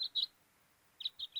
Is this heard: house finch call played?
yes